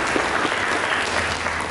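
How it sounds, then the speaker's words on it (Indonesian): A church congregation claps during a sermon, a brief, dense wash of steady applause from many people in a reverberant hall. "Mari kita berikan tepuk tangan yang mulia bagi Yesus."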